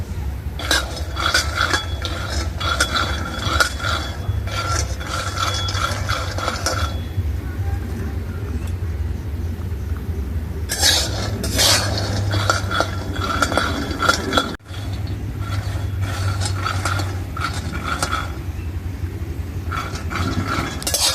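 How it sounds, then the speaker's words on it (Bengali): Peanuts dry-roasting in a pan, rattling and clinking in busy bursts as they are stirred, with pauses between them and a steady low hum beneath. "চীনা বাদামগুলো ভেজে নেব।"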